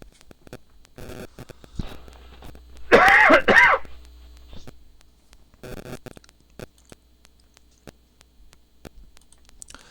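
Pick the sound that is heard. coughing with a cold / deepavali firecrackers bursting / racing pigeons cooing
coughing with a cold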